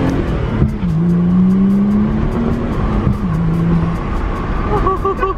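A close BMW 135i engine with an aftermarket intake revs in short bursts, pitch climbing and falling with a throaty intake roar, a couple of brief pauses between pulls.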